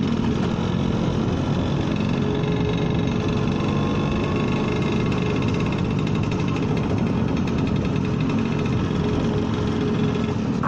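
A Vespa scooter engine drones steadily while riding on a road, a loud continuous buzz with wind and road noise mixed in and no talking.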